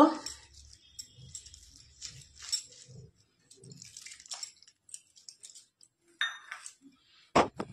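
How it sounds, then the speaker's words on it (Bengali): Gram flour batter is mixed with water in a bowl, giving intermittent wet squishing strokes and light clinks of a utensil against the bowl, with pauses between and a sharp knock at the end. "স্বাদ মতো নুন, আদা বাটা, লঙ্কা বাটা, জল দিয়ে আমি গোলাটা করে নেব।"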